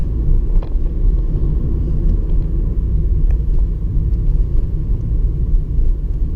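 Car driving on a test route in Morden, its engine a loud, steady low rumble as it accelerates, with faint ticks above the drone and no talk.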